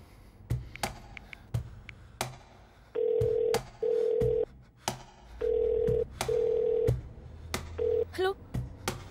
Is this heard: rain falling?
no